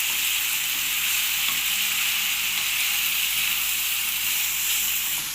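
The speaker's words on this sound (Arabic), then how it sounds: "نشوحهم مع بعض وبس كده" Green peppers and liver sautéing in a pan for street-style sandwiches, with a loud, steady, close sizzle and hiss that runs unbroken from start to finish and no voices.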